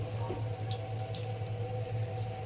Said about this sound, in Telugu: ఇప్పుడు కాసేపు ఆ నూనెలో వేగాలి.